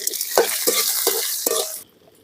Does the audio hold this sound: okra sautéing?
yes